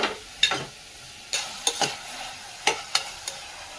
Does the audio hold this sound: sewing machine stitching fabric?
no